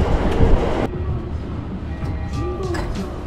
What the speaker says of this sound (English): I just got off the subway at the Jinbucho station